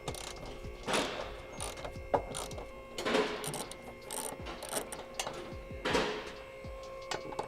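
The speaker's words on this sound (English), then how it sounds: "14 mil socket, you're gonna remove the 4 14s off of this black brace" Ratchet turning a 14 mm socket to remove the bolts on a black transmission brace of a Nissan 350Z, giving rapid clicking runs in several bursts with brief pauses between them, close and fairly quiet.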